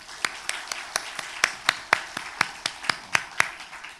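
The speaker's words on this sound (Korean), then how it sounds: "우리 격려의 박수 한번 합시다" Hands clap at a church worship service, about a dozen sharp evenly spaced claps in a steady rhythm in a quiet room.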